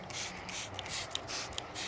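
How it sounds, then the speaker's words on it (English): Several quick hissing bursts from a spray bottle in a steady rhythm, close by with no talking. "So just spray your water on it"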